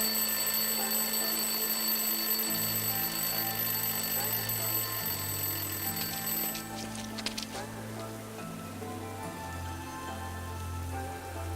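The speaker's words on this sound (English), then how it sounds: "Why would someone throw away a perfectly good alarm clock?" An alarm clock rings in the video game Lost Horizon, a steady electronic tone that shifts pitch partway through, playing at moderate volume over a quiet background.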